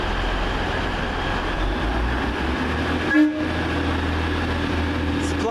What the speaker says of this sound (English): Get ready to hear the best DMU sound in the world.